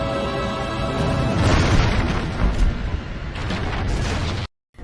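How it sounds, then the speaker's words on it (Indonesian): A loud, rumbling explosion of a ship in a Pirates of the Caribbean film, with sustained booming and crackling debris noise, cutting off abruptly near the end. "kapal miliknya meledak dan hancur seketika"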